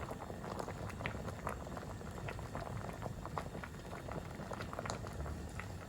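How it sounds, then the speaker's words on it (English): Cabbage soup with red cabbage puree simmering in a covered pot; soft continuous bubbling and faint popping, steady and low in level, with no talk. "we're gonna cover it and let it simmer"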